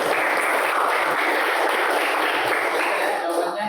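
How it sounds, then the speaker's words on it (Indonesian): Sustained applause from a classroom audience for a student during a teaching performance assessment session, a dense steady wash of clapping lasting throughout without pause. "Ya, tepuk tangan buat Aura ya."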